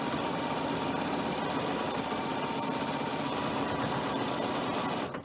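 A sewing machine stitches a long cork strap for a messenger bag in one loud, continuous, rapid run with no pauses, close by and without talk.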